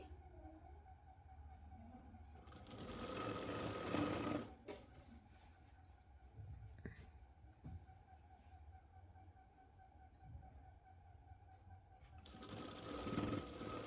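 A sewing machine stitching a Punjabi dress, with its motor whirring in long runs that swell loudest near the start and the end and drop back in between, close by with a steady background hum.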